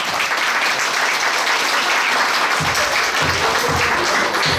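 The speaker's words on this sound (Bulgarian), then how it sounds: "Аз сега искам да чуя много аплодисменти и много шум за най-малото християнче, за Тея." Enthusiastic applause from a crowd at a christening and first birthday party, loud, dense and continuous clapping filling the whole stretch, with a few louder claps standing out near the end.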